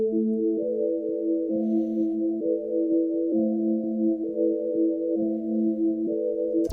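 Dark orchestral melody for a hustle beat, low-passed with automated filtering so it sits muffled and warm, a steady sustained melodic line playing alone with no talking.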